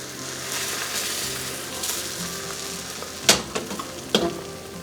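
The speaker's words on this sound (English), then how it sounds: "Pour another 1/4 cup of mixture into the pan. Lift up the roll and tilt the pan so the egg mixture slides under the roll." Egg mixture for tamagoyaki sizzling in a frying pan, a steady close crackle with a few sharper scrapes and clicks of the pan as the roll is lifted and the pan is tilted.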